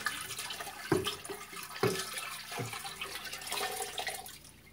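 Dirty water tipped from a Rainbow D4C SE vacuum's water tank into a toilet and flushed away: close splashing with a few heavy plunging gushes over a steady rushing wash, no voices.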